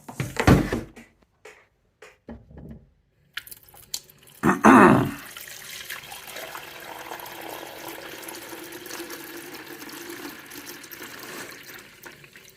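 Cold water poured into the reservoir of an Aircast Cryo/Cuff cooler, with brief knocks and splashes early on, then a steady soft trickle of water filling the container, close by.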